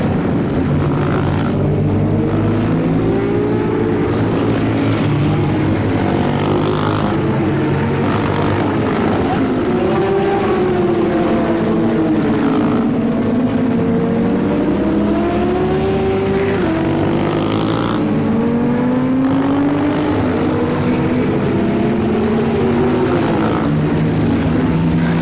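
A Suzuki GSX-R125 motorcycle is ridden around a practice area during a riding lesson, its engine note rising and falling steadily as the rider accelerates and slows, running continuously at a moderate distance.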